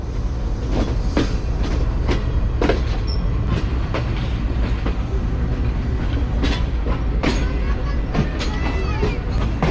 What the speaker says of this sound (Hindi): काफ़ी आराम से ट्रेन जो है वो डिपार्ट कर रही है